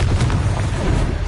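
A Confringo fire spell blasts in Hogwarts Legacy, a loud, dense burst of rumbling low boom that holds steady for over a second with crackling debris on top.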